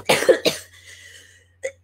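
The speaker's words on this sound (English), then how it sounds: "I had a cough for like a month" A couple of harsh, close coughs in quick succession from a lingering month-long cough, followed by a pause and one shorter cough.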